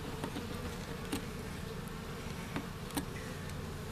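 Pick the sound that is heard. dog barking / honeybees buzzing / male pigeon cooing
honeybees buzzing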